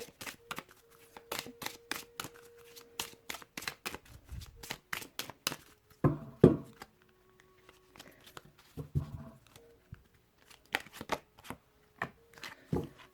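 Tarot cards being shuffled, a rapid series of crisp riffling snaps and papery flicks in bursts, close and fairly quiet, with short pauses and a few soft handling thumps between.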